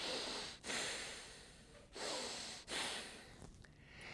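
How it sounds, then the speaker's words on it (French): Slow, steady breathing through the nose, with three long inhale-exhale cycles, close and fairly loud, no talking. "vous allez rester avec ce qu'on appelle une respiration nasale"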